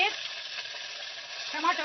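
Mustard seeds, curry leaves, green chillies, garlic and onion sizzling in hot oil for a tempering, a brief bright crackle with stirring, close and fairly loud.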